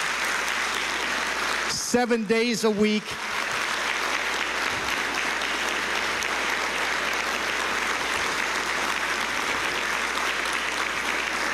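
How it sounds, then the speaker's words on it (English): A community-meeting audience gives a sustained round of applause for police officers, a steady broad wash of clapping that fills the room throughout, with a brief spoken phrase near the start. "would you join me in a round of applause for the men and women who have been out there for 24 hours a"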